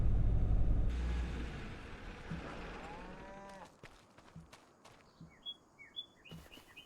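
Cows moo in the Farming Simulator 25 video game, a drawn-out lowing call in the first seconds fading under a low rumble, followed by light birdsong chirps in the background.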